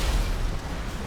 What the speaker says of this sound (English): There's explosions, there's all sorts.